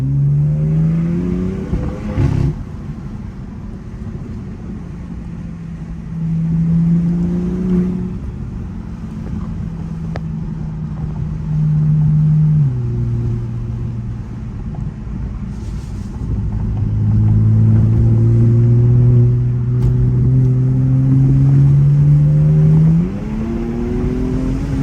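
BMW F80 M3 climbing a canyon road, its engine repeatedly revving up through the gears with rising tones, brief drops at each shift, and steady interior rumble, loud and close with no voices.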